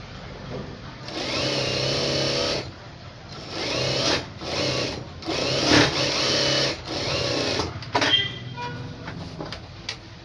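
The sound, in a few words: sewing machine stitching a lined blouse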